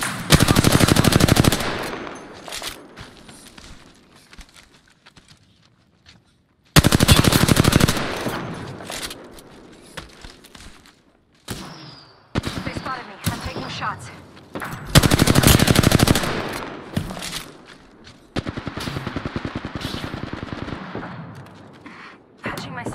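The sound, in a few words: gunfire from enemies in the video game Apex Legends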